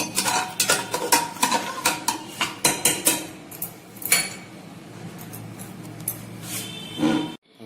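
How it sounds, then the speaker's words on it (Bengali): Chopped coriander being stirred into Bengali-style masoor dal in a pot, a quick series of close metallic clinks and scrapes of a spoon against the pot, then softer, sparser knocks with a final clatter. "এইবার আমি এর মধ্যে দেব ধনেপাতা কুচনোটা দিয়ে দেবো, দিয়ে একটু নেড়ে দেব"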